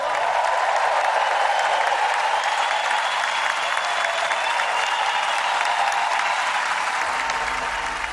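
An audience at a New Year's Eve gala applauds loudly and steadily, dense clapping sustained throughout and fading slightly at the end.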